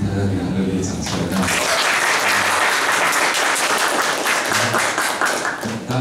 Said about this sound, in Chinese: 请大家给他热烈掌声